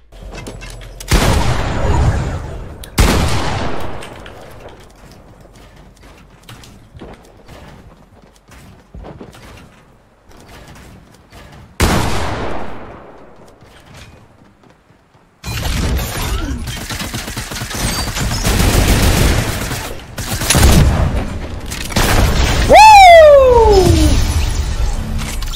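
Heavy sniper rifle fire in Fortnite: a few loud, sharp single blasts spaced seconds apart with ringing decay, followed by denser chaotic shooting and impacts.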